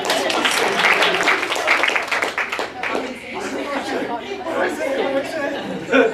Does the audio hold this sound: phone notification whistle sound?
no